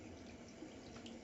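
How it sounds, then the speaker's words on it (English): Water running from a bathroom sink tap at less than full pressure: a steady, faint hiss and splash held constant throughout, with no voices. "I'm trying to not turn the sink on full power"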